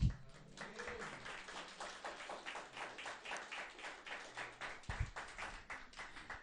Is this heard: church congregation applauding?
yes